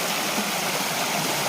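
A full stream flows steadily nearby in Mangalore, giving an unbroken, dense rushing hiss of moving water with no voices.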